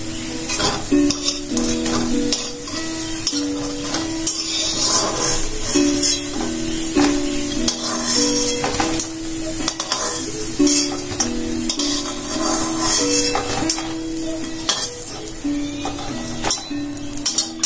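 Ingredients for matar dal bhapa, a vegetarian Bengali lentil dish, fry loudly in a pan on a gas stove, with constant close sizzling and frequent scraping, clinking stirs throughout; no speech is heard.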